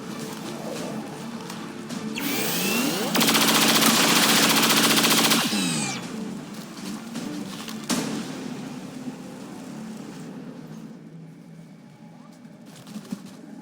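Rapid bursts of automatic gunfire from a soldier shooting an alien in XCOM 2, with a loud sustained volley in the middle, shorter shots around it, and game voices talking throughout.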